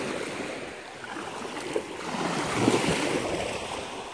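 Ocean surf rolling onto a beach near a pier, a steady broadband wash with a slightly louder wave surge late on, plus some wind rumble and no voices.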